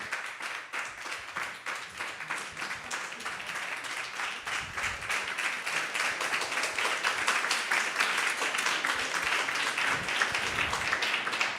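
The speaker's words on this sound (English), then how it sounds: "Let's give a round of applause for him." An audience at an ISKCON temple talk in Silicon Valley gives the speaker a steady round of applause that swells and stays loud throughout, with no voices over it.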